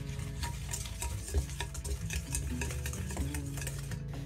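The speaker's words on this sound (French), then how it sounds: "Et on va venir remuer." A whisk or spoon stirs egg yolks, sugar and sifted powders in a bowl, giving rapid repeated scraping and clicking strokes at close range, steady throughout.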